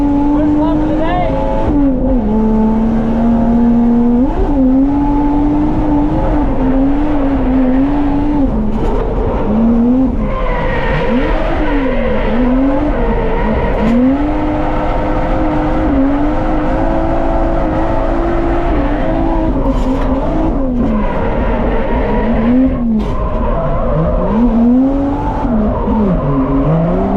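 A Toyota JZX100 on a race track in the morning, its engine droning loud and close as revs rise and fall through gear changes over a long run, with bursts of tire squeal.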